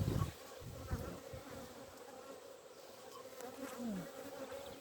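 Honeybees buzz steadily around an open full-size hive, a dense, continuous drone close by with no talking.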